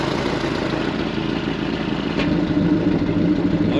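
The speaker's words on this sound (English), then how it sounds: "we've just opened up the exhaust now" A 1929 Ford Model A Speedster engine runs with its exhaust cutout opened and no back pressure, giving a close, loud, clattering rumble that swells noticeably louder partway through.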